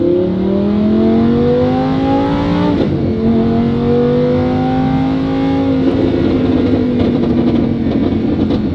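A Lamborghini fitted with a Valvetronic Designs valved exhaust revs hard, its engine pitch climbing in long sweeps, dropping sharply near the three-second mark and rising again, loud and close with crackling pops near the end.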